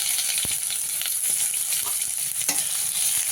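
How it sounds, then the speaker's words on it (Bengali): Chopped onion frying in oil in a pan after bay leaf and whole spices go in, with loud continuous sizzling and a few stirring scrapes, no talk. "এবার দিয়ে দেবো পেঁয়াজ কুচি,"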